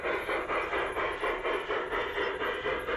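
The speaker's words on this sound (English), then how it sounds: "as we watch the cattle train go by, let's follow it around the layout" Model cattle train rolling around an elevated garden railroad layout in a landscaped backyard, a steady hissing rumble with a faint rhythmic clickety-clack repeating evenly throughout, close and continuous.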